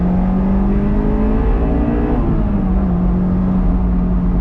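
A Honda S2000 pulls hard out of a roundabout, its engine note heard close from inside the car, a loud steady drone that climbs in pitch, dips briefly and rises again under acceleration.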